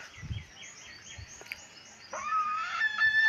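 A village rooster lets out a loud, sharp alarm call warning the hens of a prowling animal after a couple of soft clucks, the cry rising and holding near the end.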